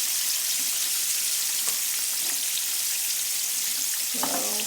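Flounder pieces frying in hot oil give a dense, even sizzle that holds steady and close throughout, with a brief scrape near the end.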